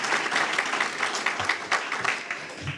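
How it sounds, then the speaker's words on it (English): A Kiwanis meeting audience applauds in Bradenton with dense, steady clapping that carries evenly for a few seconds, with a few louder claps standing out near the end. "let's give them a round of applause one more time"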